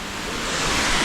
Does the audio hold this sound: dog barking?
no